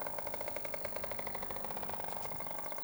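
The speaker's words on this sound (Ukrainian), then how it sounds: "Я беру мотоцикл." A motorcycle engine runs steadily with a rapid, rough pulsing idle, fairly close and continuous throughout, with no talking over it.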